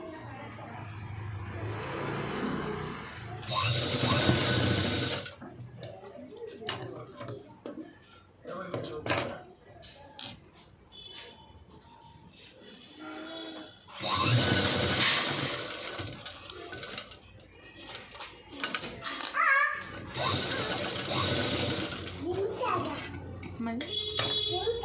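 A sewing machine runs in several long bursts while stitching a kajal patti trim with hooks, its whirring rattle loud and close, broken up by spoken instructions and quieter pauses between runs.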